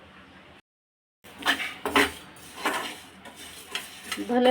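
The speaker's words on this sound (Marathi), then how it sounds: "थोडेसे हलकेसे हे भाजून घेऊ आपण" Coriander and cumin seeds dry-roasting in a pan, stirred with a utensil that scrapes and clinks against the metal in an uneven series of close strokes, after a brief silent gap.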